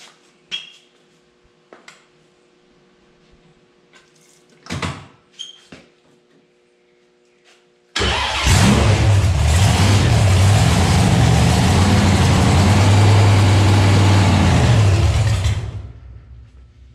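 A 1921 Ford T-bucket hot rod engine, starting after a few faint clicks and knocks, then catching and running at a loud, steady idle for several seconds before cutting off abruptly.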